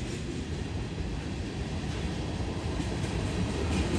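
A CSX freight train of CN gondolas and boxcars rolls past at Voorheesville, New York, a steady, dense, rumbling roar of wheels and cars close by, unbroken throughout with no voices.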